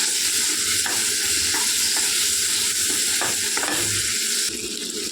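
Paneer cubes frying in oil with red chilli powder for paneer butter masala, a loud continuous sizzle close up, broken by several soft spoon scrapes while stirring.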